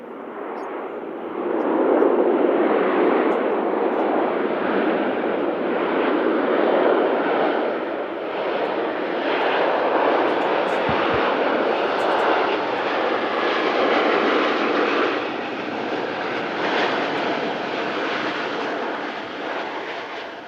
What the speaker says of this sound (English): Here is a Ryanair. 737-800 series this time.